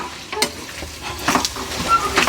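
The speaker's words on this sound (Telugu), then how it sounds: "ఈ ఉడికించిన గుడాలు వేద్దామండి చూడండి ఇప్పుడు మనం మంచిగా వీటిని కలుపుకోవాలి" Boiled goat intestines are stirred in a pan over a low flame, giving a soft sizzle with scraping stirs and a few sharper pan clinks, loud and close.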